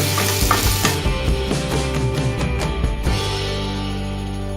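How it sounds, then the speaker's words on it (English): Chopped onions sizzle loudly in a hot pan over a high flame, with a spoon scraping and stirring through them in irregular strokes, close and continuous with no talking. "Now we will add the onions. Put the flame high and stir them and fry them."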